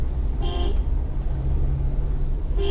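Two short car horn honks, one near the start and another at the end, over a steady engine and road rumble from a Mahindra Scorpio S11 4WD on a narrow mountain road to Darjeeling.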